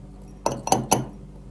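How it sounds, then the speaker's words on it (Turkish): Rice grains poured into a drinking glass, heard as three quick, bright clinking bursts against the glass in close succession, close and fairly clear over a quiet background. "bir su bardağı veya çay bardağının yarısına kadar pirinç dolduruyoruz"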